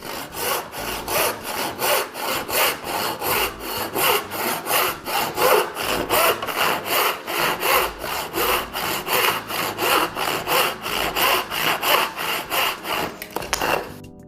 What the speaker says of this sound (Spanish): bajar un poquito la velocidad del corte para evitar que la pieza que estamos cortando tronce y se rompa antes de que el serrucho haya terminado de cortarla